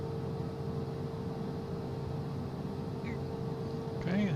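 A Cessna Citation CJ4 business jet engine idles steadily after start in Microsoft Flight Simulator 2024, a constant even hum with a brief chirp near the end and no break in the drone.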